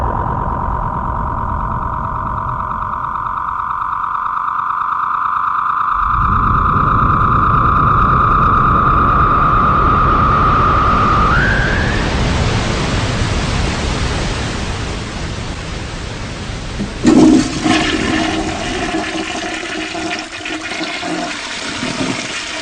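A loud toilet flush used as a sci-fi weapon effect, firing a commode ray: a rising tone and steady rushing water that swells, ends in a gurgling drain, and plays alone without talk.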